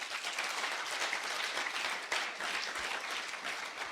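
A church congregation applauds together in a dense, steady burst of clapping that holds at an even level throughout.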